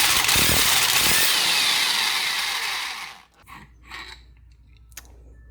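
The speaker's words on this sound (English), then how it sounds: "Just a couple ugga-duggas on this little bolt right here," An impact wrench loosens a bolt on an engine mount of a Hyundai Elantra N Line, with a loud, close, rattling mechanical whir lasting about three seconds, then tapering off into faint clunks.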